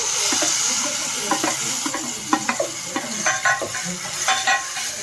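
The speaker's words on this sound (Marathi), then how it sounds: "आता हे सगळं मिक्स केलेलं मिश्रण आपल्या भाजीचं फोडणीमध्ये ओतायचं." A mixed batter is poured into a hot, sizzling tempering for ambadi leaf curry, giving a steady frying hiss with scattered stirring scrapes and clinks of a utensil against the pan, close and without talk.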